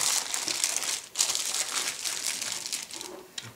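A plastic bag holding a sprue from a KittyHawk 1/48 Yak-130 model kit is opened by hand, giving close, continuous crinkling and rustling with brief pauses and no talk.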